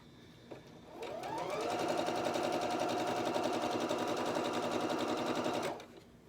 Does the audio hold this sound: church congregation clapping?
no